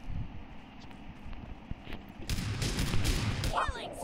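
PUBG gunfire crackles in scattered shots that thicken into a denser burst near the end, heard under a player talking in Hindi over steady game background noise.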